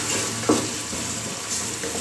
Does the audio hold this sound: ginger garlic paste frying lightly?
yes